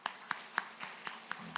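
A church congregation claps together during a Sunday worship service, about seven sharp, evenly spaced claps in a steady rhythm, fairly quiet and with no voices.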